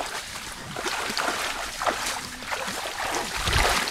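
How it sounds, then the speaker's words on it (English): Stream water rushing and splashing at a crossing on the Lonavala to Bhimashankar trek, a steady broadband wash with occasional louder splashes, fairly close. "this is one of the streams that we have to cross"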